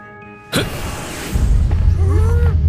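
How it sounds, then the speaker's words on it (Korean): Magic stone exploding in an anime, a sudden sharp burst followed by a deep rumbling roar that swells and keeps booming, with a few whooshing tonal streaks on top. "그리고 폭발하는 마석까지 시크하게 막아내니"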